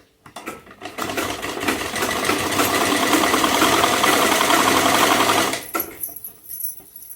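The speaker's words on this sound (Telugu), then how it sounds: "ఈ పక్క సైడ్ ఒక కుట్టు కట్టేసుకోండి" A sewing machine stitching a seam along folded blouse cloth runs loud and steady for about five seconds with a rapid mechanical whir, then stops, leaving faint handling sounds.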